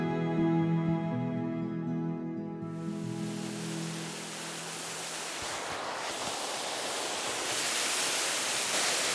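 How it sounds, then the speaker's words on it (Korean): Sojeongbang waterfall in Seogwipo makes a steady broadband rush of falling water that takes over after a sustained tonal sound fades in the opening seconds, then continues at moderate level to the end. "예, 소정방 폭포입니다."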